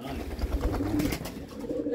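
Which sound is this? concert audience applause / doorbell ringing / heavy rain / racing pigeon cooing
racing pigeon cooing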